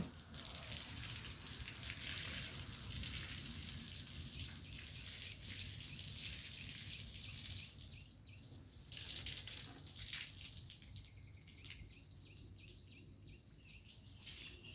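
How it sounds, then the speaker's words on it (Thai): Water sprays in a steady hissing stream while an elephant is scrubbed and bathed outdoors, continuous and close, dipping briefly then resuming, with faint birds in the background. "เวลาฉีดน้ำถูอย่างนี้เลยขัดผิวสวยงามเร็ว"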